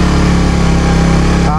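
A manual motorcycle engine runs at low RPM, giving a loud, steady, close-up chugging drone.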